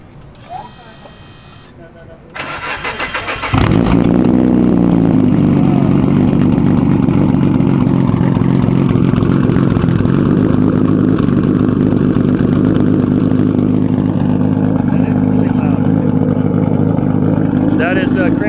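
A tuned car at an import car open house in California cranks briefly, then fires and settles into a loud, steady, rumbling idle that continues close by; people talk over it.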